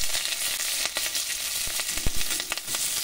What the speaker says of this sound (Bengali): এখানে দিয়ে দিচ্ছি কাঁচা পেঁয়াজ আর কাঁচা লঙ্কা